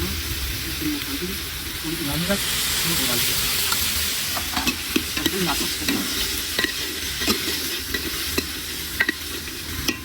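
Cumin and green chillies temper in hot oil with a steady, bright sizzle and hiss, while a spoon stirs and scrapes the pan with scattered clicks; a voice murmurs faintly in the background.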